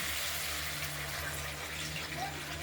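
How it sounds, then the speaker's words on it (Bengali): Water pours into a pan of fried-down spice paste for a rohu fish curry with potato, tomato and coriander, giving a steady, close gushing wash that runs evenly throughout with no pauses. "জলটা দিয়ে দিলাম, আর ভেজে রাখা মাছগুলো আমরা দিয়ে দেবো।"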